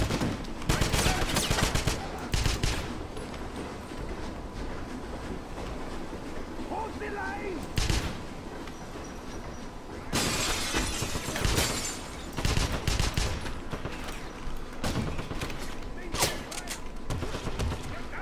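Gunfire in the Wolfenstein 2 game on PC: bursts of rapid shots and loud blasts over a steady battle din, with voices calling out during the fighting.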